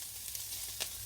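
Homemade bacon bits and scooped red potato filling sizzle in a hot pan, a steady close crackle with small pops and no voices.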